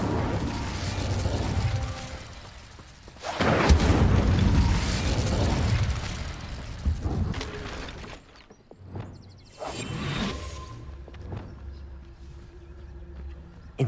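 The Incendio fire spell cast in Hogwarts Legacy, a roaring whoosh of flame with booming bursts and mechanical clatter, swelling loud then easing off, followed by a second fiery burst.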